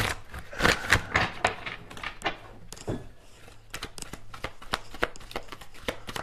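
Tarot cards are shuffled by hand in a series of crisp, irregular riffles and snaps, close and moderately loud, with brief pauses between bursts and no talk.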